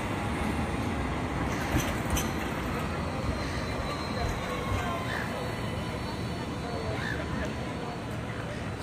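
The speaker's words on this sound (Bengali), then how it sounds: "এটাকে সিডনিতে লাইট ট্রেন বলে" A Sydney light rail train rolling by, a steady broad rumble and wheel noise throughout at moderate distance, with faint voices nearby.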